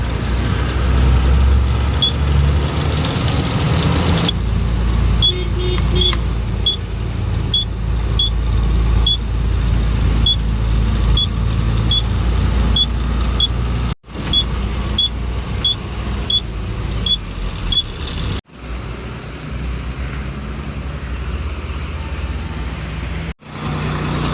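Car creeping slowly forward in a long queue of traffic near Chennai after about an hour's wait, a steady low engine rumble with faint regular ticking, broken by a few sharp dropouts, no talk.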